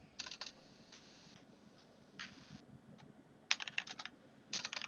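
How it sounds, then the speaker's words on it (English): Bursts of typing on a computer keyboard, quiet and close, coming in several short clusters of rapid clicks separated by pauses, with no talking. "Take the sound of my typing as him pausing to think."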